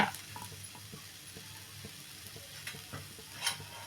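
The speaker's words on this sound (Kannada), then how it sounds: "ಇದನ್ನು ಸ್ವಲ್ಪ ನಾವು ಬಾಣಲೆಯಲ್ಲಿ ಚೆನ್ನಾಗಿ ಹುರ್ಕೋಬೇಕು ಅದ್ರ ಜೊತೆಗೆ ಈರುಳ್ಳಿನೂ ಹಾಕ್ಕೋಬೇಕು" Capsicum and onion fry in a pan with a steady close sizzle, broken by soft scraping stirs and occasional louder taps, with no voices.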